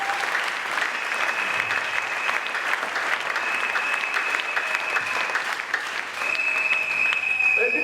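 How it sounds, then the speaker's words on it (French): A church congregation claps loudly and steadily for the full stretch, with scattered cheers and voices mixed into the dense, continuous applause. "Acclamez trop fort pour la gloire du Seigneur"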